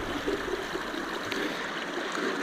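Water pours steadily through a gold-panning sluice set below a small weir on a Polish river, a continuous rushing trickle at fairly low volume with no voices.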